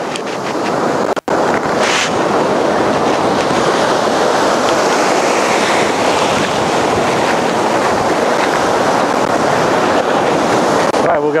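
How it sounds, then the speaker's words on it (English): Motorboat running at fast speed on open ocean, a steady broadband engine and hull roar mixed with wind buffeting the microphone and wave wash, continuous and loud throughout with one brief dropout near the start. "Now we're going to start the motor."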